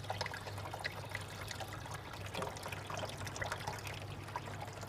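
Water runs steadily by itself from a higher tank into a lower one in a homemade automatic water system, a continuous trickling, splashing flow over a low mechanical hum, with no talk.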